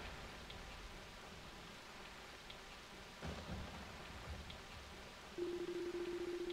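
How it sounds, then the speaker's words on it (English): Steady falling rain with a low thunder rumble swelling midway, heard in Ys: Memories of Celceta; a thin sustained musical tone enters near the end. "Only the sound of the falling rain and constant thunderclaps could be heard echoing through the darkness."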